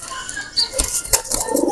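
Two Pakistani pigeons released into flight, giving a quick burst of close wing flaps and flutters with a few faint bird calls over light outdoor background.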